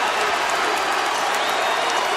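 A basketball arena crowd in Houston roars and cheers loudly and continuously as James Harden breaks Calvin Murphy's record, a dense wall of applause and shouting.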